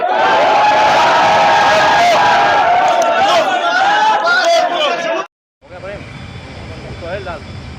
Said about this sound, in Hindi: आज क्या मामला है जो पूरी भीड़ इकट्ठा हुई है?